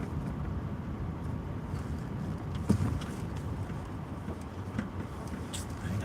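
Road traffic rumbles as a steady low wash of passing vehicles, with a brief louder swell partway through, continuous and moderately distant with no talk.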